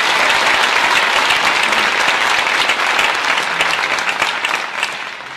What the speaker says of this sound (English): One more big round of applause for Joe Lombardo, Joe Borowick, the entire saxophone section, trombone section, trumpet, rhythm section